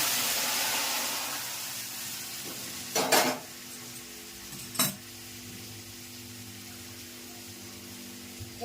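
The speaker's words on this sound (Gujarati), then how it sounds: "અને સરગવા કા વઘાર" Drumsticks go into hot oil with mustard seeds, cumin and fenugreek powder for a tempering, producing a steady close sizzle that fades a little, broken by two sharp metallic clanks of a utensil against the pan.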